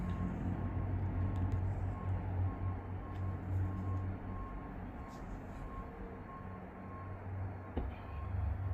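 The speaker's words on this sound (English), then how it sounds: "You hear that trash truck in the background." A garbage truck idles with a steady low rumble, and a faint high reversing beep repeats over it. The sound is continuous and sits in the background.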